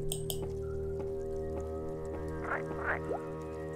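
Short croaks from a frog in The Whispered World point-and-click game repeat at a steady rhythm over a constant musical drone, moderately loud, with two wetter bursts near the end and no talking.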